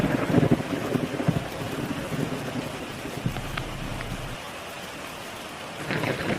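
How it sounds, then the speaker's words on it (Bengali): Heavy rain pouring outside during a thunderstorm, a steady close rush of falling water with low thunder rumbling underneath. "দেখো দেখো গিন্নি, বাইরে কিভাবে বিদ্যুৎ চমকাচ্ছে, মেঘের দল হুড় করে ডাকছে"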